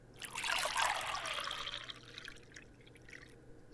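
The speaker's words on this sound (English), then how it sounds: "Pour me another glass, would you?" Wine poured into a glass in a quiet indoor setting: a soft liquid trickle lasting about two seconds, close and gentle, then fading.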